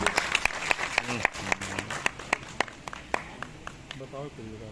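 An audience at a birthday honouring event claps in scattered, uneven bursts of individual sharp claps rather than a full ovation, with voices talking over and between them.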